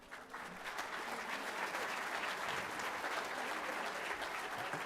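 An audience at a school 8th grade awards ceremony applauds, steady dense clapping that builds quickly after a brief quiet start and continues at an even level, with little or no talk over it.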